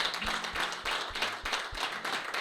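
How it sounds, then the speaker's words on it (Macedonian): Applause for a veteran footballer at a reunion of veteran players from FK Teteks and FK Ljuboten in Tetovo, heard as steady, moderately quiet clapping from a small gathering. "еден аплауз и за Пинго, исто како и за Бојан"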